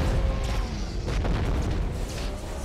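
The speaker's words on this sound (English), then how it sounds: "Who just shot cannons at me?" Cannon fire in a robot combat video game: a dense, continuous rumble of low booms and bursts fills the whole stretch, loud and close with no clear gaps between shots.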